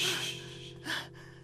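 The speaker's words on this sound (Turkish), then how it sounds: "Derin nefes al." A distressed woman takes a deep, noisy breath, a long airy inhale followed by a second short gasp, close and alone.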